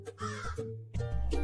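A crow caws in a harsh, fairly loud burst, breaks off briefly, and then caws again. No one speaks.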